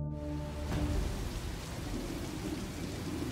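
A dark, stormy night with heavy rain pouring steadily and a deep rumble of thunder rolling through, loud and continuous without any voices.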